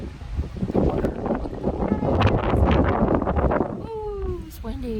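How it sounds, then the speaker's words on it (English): Strong, steady wind roars and buffets the microphone at a lakeside state park campground in Monroe, Michigan, loud and continuous, with a voice speaking briefly near the end. "Ooh, it's windy."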